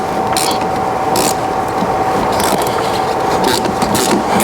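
A wrench works loose a 13 mm nut on the steering U-joint of a 1992 BMW E34 M5 while the bottom is counter-held, giving a steady close metallic ratcheting and scraping with a faint whine underneath.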